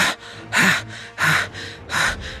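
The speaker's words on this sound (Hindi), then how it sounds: "वो हांफने लगा।" Heavy, ragged panting from a man worn out after punching and kneeing a wall in an audio drama, three loud gasping breath bursts in a steady rhythm, close and alone.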